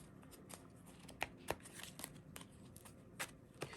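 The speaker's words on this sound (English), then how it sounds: "Let me shuffle." Pink Rider-Waite tarot cards being shuffled by hand, a run of soft papery riffles and crisp flicks in an irregular rhythm, close and fairly quiet.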